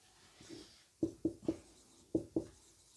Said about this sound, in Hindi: ऐसे लिख लीजिए